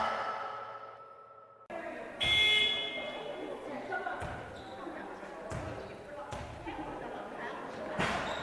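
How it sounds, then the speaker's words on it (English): Buzzer in an indoor sports hall at a women's Premier Handball League match sounds with a tonal blare after a quiet moment, followed by ball bounces, thuds and crowd noise echoing through the arena. "Yes, the buzzer has just gone."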